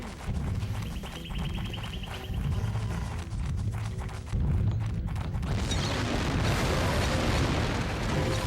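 Repeated explosions and booming bursts in the GameCube platformer Ty the Tasmanian Tiger 3, a dense, loud rumbling barrage that swells and roughens toward the end, with game music and clattering effects underneath.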